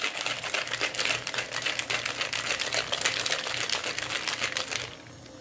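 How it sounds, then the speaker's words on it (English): A small cocktail shaker is shaken hard, giving a rapid rattling of ice for about five seconds before it stops. "I have my little shaker here. So I'm gonna go ahead and get this shaken up."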